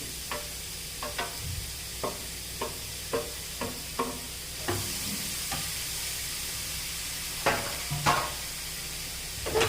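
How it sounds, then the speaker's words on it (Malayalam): Grated carrot sizzles steadily in ghee in a hot pan while a spoon scrapes and stirs in repeated strokes, close and clear. "നമുക്ക് നന്നായി ഒന്ന് ഇളക്കി കൊടുക്കാം"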